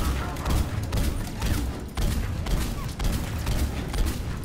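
Dense, rapid gunfire from the Mass Effect 3 video game rattles in repeated sustained bursts with brief breaks between them, loud and close.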